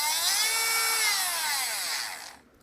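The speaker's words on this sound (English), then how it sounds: "See, it's a very powerful Dremel." A Dremel 8100 rotary tool runs at high speed with a loud, steady, piercing whine that drifts slightly in pitch, then spins down and cuts off near the end.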